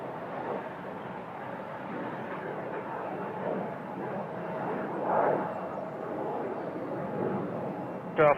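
CRJ jet aircraft at Toronto Pearson airport, a steady airy engine rumble heard at a distance that swells briefly partway through, with voices talking over it.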